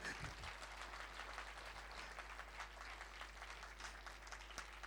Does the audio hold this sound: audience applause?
yes